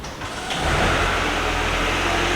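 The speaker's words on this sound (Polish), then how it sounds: "Włączyć silnik, zostawić na biegu jałowym." A Mercedes CLA 250e engine idles close by during ADAS calibration with a steady, loud rumble that swells slightly at the start and then holds even.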